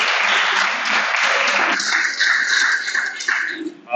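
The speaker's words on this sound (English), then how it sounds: "Give him a clap." An audience at a college gathering claps briskly for a few seconds. The applause then thins into scattered claps, with some shuffling and possible voices toward the end.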